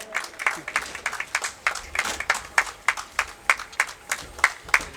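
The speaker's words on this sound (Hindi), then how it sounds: "एक बार तालियों से स्वागत" A crowd applauds steadily at a monthly yoga event in the Uttarakhand Legislative Assembly building, the clapping dense and rhythmic, some hands falling into a loose shared beat throughout.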